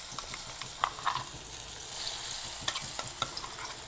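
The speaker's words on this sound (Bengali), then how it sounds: "এবারে যে পুরটা আমি বেটে রেখেছি এই যে মিক্সিতে, এটাকে আমি এই তেলে দিয়ে দেবো।" Ground kachori filling frying in hot oil while being stirred, a soft, steady sizzle broken by several sharp spoon scrapes and taps against the pan.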